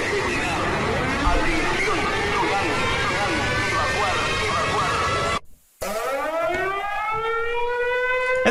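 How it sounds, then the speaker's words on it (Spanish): A loud, steady tsunami warning siren wails continuously with rising and falling tones, cuts out briefly, then starts again at full volume. "Alerta del tsunami."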